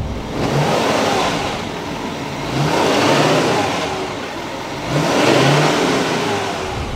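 A 2021 Chevrolet Silverado 2500HD with the Duramax diesel engine, driving on the road, a subdued engine hum and road noise that swell three times as the truck accelerates, with no talking.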